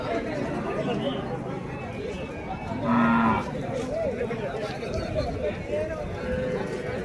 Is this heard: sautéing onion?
no